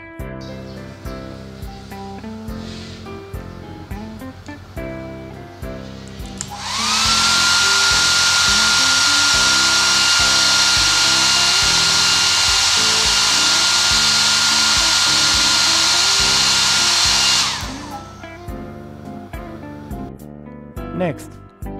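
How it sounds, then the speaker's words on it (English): A hair dryer switches on and blows steadily with a loud, high whooshing whir for about ten seconds, then cuts off, with faint background sounds around it. "Table tennis ball and hair blower."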